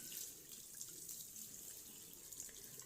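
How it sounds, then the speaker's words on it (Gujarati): Water runs from a tap into a sink during hand washing, a faint, steady splashing hiss that continues without a break and with no voices. "ઘડીક નળ બંધ કરી દે નળ બંધ કરી દે"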